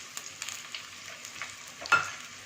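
Onions sautéing in a pan for Tamil-style vermicelli upma give a soft, steady sizzle, broken by a few light scraping stirs and one sharper clatter near the end; no voices.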